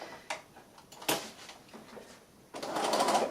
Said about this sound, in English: I'm going to run them through the machine and stitch them together